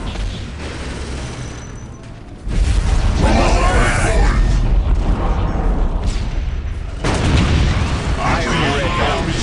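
Heavy gunfire and booming artillery blasts from Warhammer 40k: Dawn of War – Soulstorm, set around a trench battle with Space Marines. The explosions are dense and loud and surge after a quieter opening, while a voice speaks over the battle.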